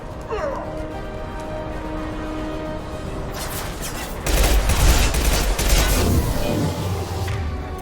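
Gunfire in the video game Mass Effect 2, heard as a dense burst of rapid shots that swells midway and continues under a steady background of game ambience.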